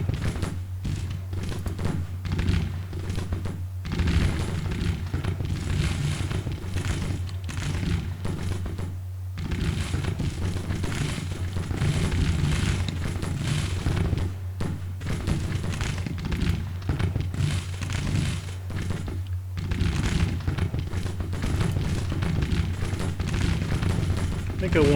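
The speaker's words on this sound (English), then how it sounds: "we've got a proper firefight going on now" A Civil War firefight in the strategy game Grand Tactician, with scattered musket volleys and thuds popping over a steady low drone throughout, dense and continuous at mid distance.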